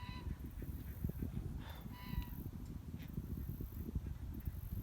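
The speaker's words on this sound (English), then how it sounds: "I don't know if you could hear those geese." Geese honk faintly in the distance, a few scattered short calls over a low, uneven rumble of outdoor background noise.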